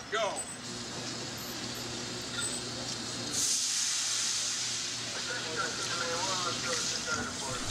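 Oil hisses in the hot kettle of a popcorn machine, a loud, continuous broadband sizzle that swells into a sudden, harsher flare-up midway and then keeps roaring steadily.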